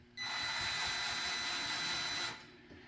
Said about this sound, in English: So make sure you're going slow when you're drilling it in.